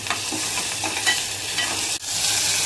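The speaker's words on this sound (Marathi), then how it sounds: "थोडंसं हिंग ॲड करून त्याला छान परतून घ्यायचं आहे" Ingredients are sautéed with a pinch of asafoetida in a pan for spicy Puneri misal, with a steady close sizzle and stirring scrapes, briefly dipping near the end.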